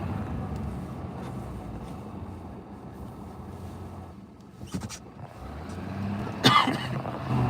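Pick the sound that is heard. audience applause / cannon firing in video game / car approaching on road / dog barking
car approaching on road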